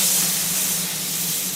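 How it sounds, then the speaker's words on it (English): Butter sizzles and hisses steadily in a searing hot cast iron pot, a loud, continuous close frying sound with no talking. "we've got our cast iron pot, searing hot. We're going to toss a little butter in the bottom."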